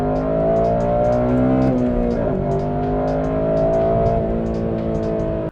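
A Honda Civic Si (8th generation) engine drones loudly and steadily with a deep exhaust note, pitch shifting slightly as it revs, with faint rhythmic clicking on top.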